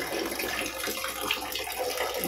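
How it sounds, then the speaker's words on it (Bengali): Tap water running steadily indoors, a broad continuous splashing hiss with no voices, ending without a clear shut-off. "এই যে জলটা বন্ধ করেছিলাম"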